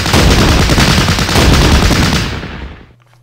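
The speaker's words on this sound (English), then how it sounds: "We shoot some more." Dense, loud gunfire from the Battle Academy war game rattles continuously in a sustained burst, then cuts off abruptly into near silence.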